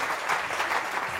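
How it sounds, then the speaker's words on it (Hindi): Studio audience of a Pakistani morning TV show applauding the host's sister, a steady dense wash of clapping throughout, loud and close with no voices over it. "मेरी बहन के लिए इतनी तालियां बजाएं कि पूरा पाकिस्तान तक आवाज जाए"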